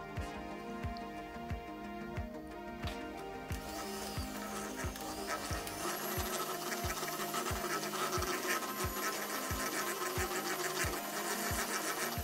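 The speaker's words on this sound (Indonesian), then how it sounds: "Tambahkan margarin, mixer kembali hingga tercampur rata." An electric hand mixer beats margarine into an egg and sugar mixture for a cake batter, giving a steady, close whirring drone with a regular rhythmic clatter of beaters against the bowl throughout.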